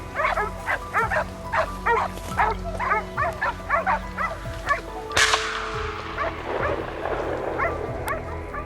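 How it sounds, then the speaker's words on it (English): Repeated hunting dog barks ring out in a steady rapid series from some distance in bushes, then a sharp loud crack cuts in and the barking thins to scattered yelps. "The loud barking of the hunting dogs deep in the bushes signaled that a trail had been found."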